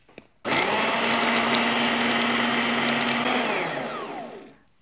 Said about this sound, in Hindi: अब इसे हमने ब्लेंड कर लिया है।